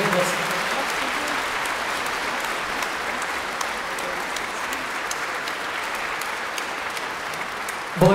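A concert-hall audience at a gala concert gives sustained, even applause that stays dense and fairly loud for about eight seconds, with no speech over it.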